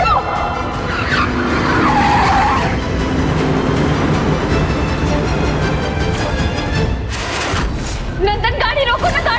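A car tears along at speed with tires skidding and squealing, engine roar and screeching swelling and fading over several seconds, with tense voices in the background.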